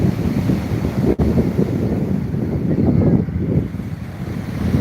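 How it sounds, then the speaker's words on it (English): Wind buffets the microphone at sea, with waves and sea spray rushing in a loud, continuous roar and one brief sharp dropout. "there's a nice spray coming and I'm getting blasted with salt water"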